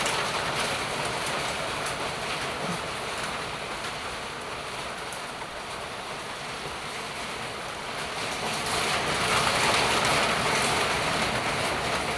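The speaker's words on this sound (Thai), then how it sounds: "ฝนเม็ดใหญ่ ตกบ่หลาย ตกบ่โดน" Heavy rain with large drops falls in a steady, dense hiss that swells louder near the end, with no voices over it.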